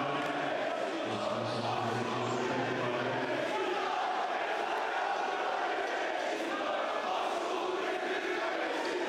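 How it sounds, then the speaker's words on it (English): A loud crowd roaring inside a basketball arena during a Besiktas versus Nanterre 92 Champions League game, a constant dense wall of cheering and shouting with no pauses. "loud crowd here tonight, as you can tell"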